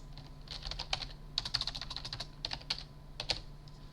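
Typing on a Grandma3 lighting console keyboard: bursts of rapid, light key clicks in uneven runs with short pauses, close-up and soft, no voices.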